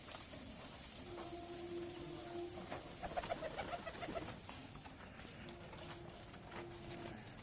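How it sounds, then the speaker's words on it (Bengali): Pigeons in a loft of new birds give soft, repeated throaty coos at a moderate distance. Steady low background hiss runs beneath, and a slightly busier burst of cooing sounds midway. "তোমরা দেখে নাও পায়রাগুলোকে"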